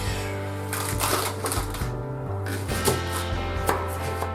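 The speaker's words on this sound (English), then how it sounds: "We're going to cut our celery grossly. Same for the fennel, the leek," Knife chopping celery, fennel and leek on a board, quick steady rhythm of close crisp cuts over a continuous background hum.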